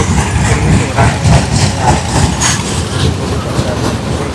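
A small children's amusement ride train at an outdoor festival ground rumbles along with a steady engine hum and rhythmic clacking, loud and close, with faint voices in the background.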